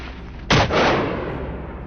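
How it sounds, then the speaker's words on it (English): Gunfire from hunters shooting wild boars on farmland, a single sharp loud report followed by a rolling echo that slowly fades. "he pulls the trigger and gunshots ring out in rapid succession"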